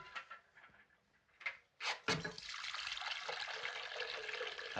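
Liquid is poured into a cup in an old 1937 film scene, beginning after a few soft knocks and handling sounds, then running as a steady, close splashing stream to the end.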